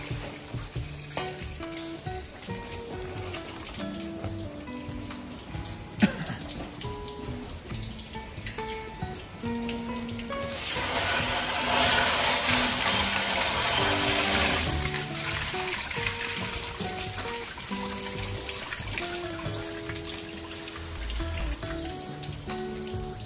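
Milking machine on a dairy farm in Smithton, Tasmania, humming steadily while water rushes through the lines to clean them, with a louder hissing surge in the middle.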